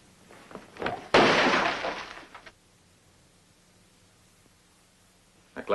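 A drinking glass thrown hard by hand shatters in a single loud crash with a bright spray of breaking shards that tails off over about a second, followed by quiet room tone.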